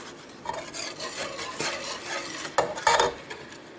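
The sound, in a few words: whisking whole eggs with sugar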